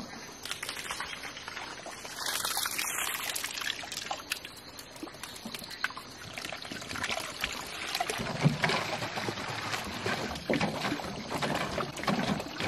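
Natural mountain spring water in an Uttarakhand forest trickles and pours into a bottle, a continuous watery splashing with scattered crackling rain-like taps throughout, fairly quiet and steady with no talking.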